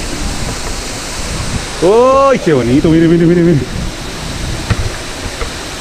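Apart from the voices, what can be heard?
waterfall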